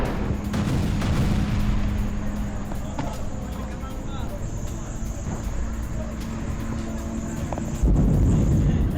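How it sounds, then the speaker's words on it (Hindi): Israeli bombardment of Rafah as shown in news footage: a dense, continuous low rumble of explosions and blast noise, loud throughout and swelling louder near the end, with no clear speech. "इजराइल की विध्वंसक बमबारी से दहला राफा"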